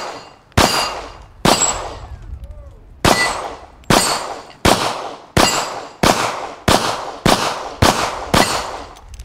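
Shots from a Smith & Wesson M&P pistol firing .40 ammunition, about twelve sharp, loud reports at an uneven pace outdoors, each with a short ringing decay, no voices.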